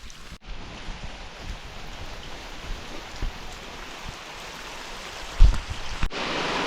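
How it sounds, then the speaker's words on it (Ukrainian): Steady rain falls on a riverbank during spinning-rod shore fishing for pike in Ukraine's Poltava region, a continuous broadband hiss with scattered nearby drips and a few soft knocks, with no talking. "Ну, Тому пробуємо, пробуємо під дощиком."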